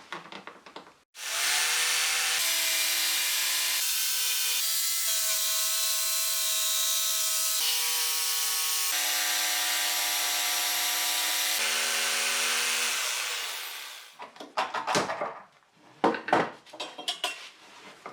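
A jigsaw cuts a round wooden rod held in a cutting jig, its motor a loud sustained whine that steps up and down in pitch for about twelve seconds, then gives way to a few short, rough bursts.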